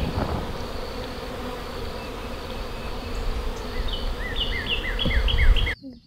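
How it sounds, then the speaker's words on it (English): A dense, steady buzz from a swarm of bees around a very active, strong beehive, continuous and close, with some brief higher chirps near the end before it cuts out. "One hive was extremely active. A very good, strong hive found the queen. A lot of bees on it."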